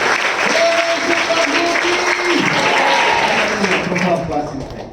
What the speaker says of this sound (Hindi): जोरदार ताली प्रभु के लिए।